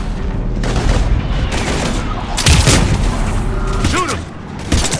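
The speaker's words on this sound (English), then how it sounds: "we're taking heavy fire" Heavy gunfire and explosions in Mass Effect 3, with dense overlapping shots and booms sounding close and loud amid chaotic combat noise.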